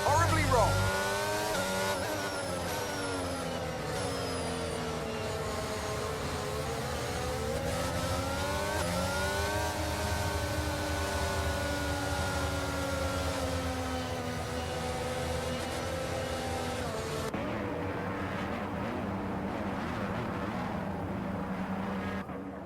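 Formula 1 cars from the F1 22 racing game on the formation lap, a steady droning engine whine with rising and falling pitch sweeps as cars run together, fading near the end.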